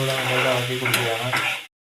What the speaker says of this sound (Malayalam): ഇളക്കി കൊടുക്കുകയാണ്.